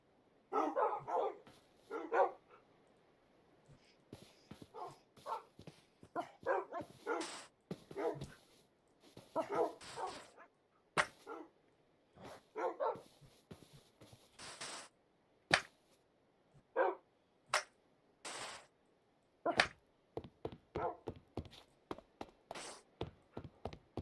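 Dogs in Minecraft barking in many short, sharp, separate yips and barks spread across the stretch, some louder and closer, with quiet gaps between them.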